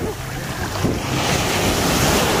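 Strong ocean surf pounds the shore at an Ilhabela beach in São Paulo, a loud continuous roar of breaking waves mixed with heavy wind buffeting the microphone.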